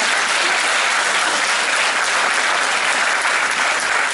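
Warm applause for an ultramarathon cyclist at a book concert, a packed audience clapping loudly and continuously without a break, a dense, close roar of hands throughout.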